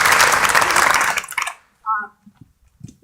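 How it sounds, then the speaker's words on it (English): Applause from a community theater audience fills the first second and a half, loud and dense, then stops abruptly, leaving a near-silent room with a brief voice and small noises. "So let's give a warm applause for her."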